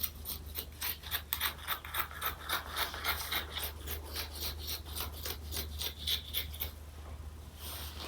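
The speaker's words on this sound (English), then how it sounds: "So I'm just going to like trim this out, trim out the edge" Scissors snip along the edge of fabric being trimmed for a homemade dog bed, a quick run of rhythmic, rasping cuts that stops briefly near the end, heard close and quiet without talk.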